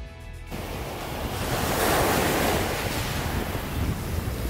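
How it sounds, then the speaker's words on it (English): Sea waves and strong wind on a stony beach on Russian Island, a loud roaring wash of surf swelling in after a brief quieter moment, with buffeting wind noise on the microphone and no voices. "When the wind is strong, you can hear the stones sing."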